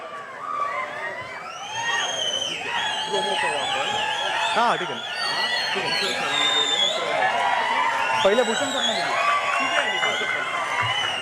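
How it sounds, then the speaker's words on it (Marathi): A large crowd at an award ceremony in Pune claps and whistles steadily, with shrill whistles and cheering over a constant roar of voices throughout. "मुलं कोणासाठी टाळ्या वाजवत आहे सगळ्यांना माहिती आहे मुली कोणासाठी शिट्ट्या वाजवत आहे"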